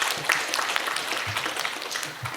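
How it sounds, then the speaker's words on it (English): Audience applause at a design panel event, a dense clatter of many hands clapping throughout, fairly close and loud. "May we have a round of applause,"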